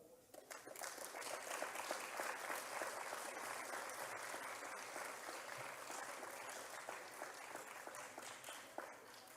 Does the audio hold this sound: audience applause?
yes